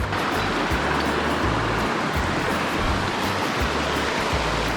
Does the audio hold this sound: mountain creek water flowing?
yes